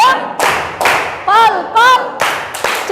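Classroom students perform a thumb-clap chant, sharp rhythmic claps and thumps landing in bursts between short chanted syllables from many young voices, loud and close.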